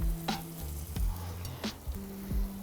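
Sausage and halloumi being laid down in a hot pan, with repeated bursts of sizzling as each piece hits the surface over a continuous close frying hiss.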